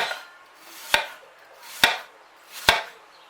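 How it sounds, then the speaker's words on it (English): A knife slicing apples thinly on a board for an apple pie, three sharp close chops about a second apart, each with a brief rasp before the blade hits, no talking. "we just want to slice them really thin"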